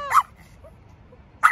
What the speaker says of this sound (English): Okay, stop barking then.